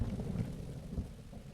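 Thunder rumbles during a stormy spell in the video game Zelda: Breath of the Wild, a dense low roar with rain-like hiss, steady and fairly loud throughout, no talking.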